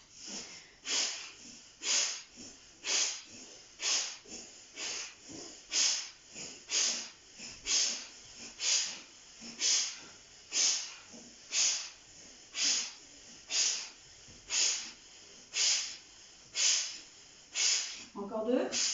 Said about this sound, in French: Donc là, c'est l'hyperventilation.